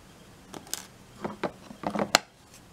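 Scissors snip the yarn end of a crocheted single-strand chain bracelet with a few quiet, separate close cuts, and a sharper click near the end.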